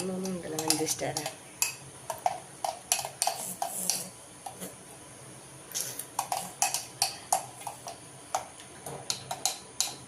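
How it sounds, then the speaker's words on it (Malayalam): Homemade soap ingredients with manjistha powder being mixed in a bowl, producing close, rhythmic clinks and taps of a utensil against the container, pausing briefly midway before resuming, with faint background sound. "മഞ്ചിഷ്ടര പൗഡറും കൂടി ആഡ് ചെയ്ത് കൊടുത്തിട്ടുണ്ട് ഇനി എല്ലാം കൂടി നന്നായി മിക്സ് ചെയ്തെടുക്കാം"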